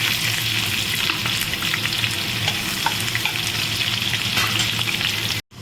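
Onions tossed into hot oil already tempered with whole garam masala spices, frying steadily in a pan with a continuous close, bright sizzle that runs unbroken until a sudden cut at the very end.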